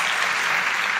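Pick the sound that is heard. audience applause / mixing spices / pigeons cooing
audience applause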